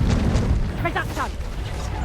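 A Reducto spell blast in Hogwarts Legacy, a heavy booming impact under a continuous rumbling bed, with a short shout cast over it.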